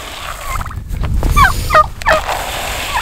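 Farm turkeys gobbling close by, several quick warbling gobbles in succession over a low background rumble.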